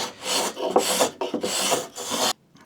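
A scratch stock scraper pushed back and forth along a wooden workpiece, making four close, loud raspy scraping strokes in a steady rhythm before stopping abruptly.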